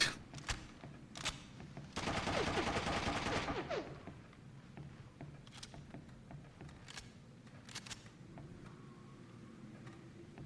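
Burst of rapid gunfire from terrorists armed with shotguns in a video game, a loud two-second volley followed by scattered distant shots over quiet game ambience.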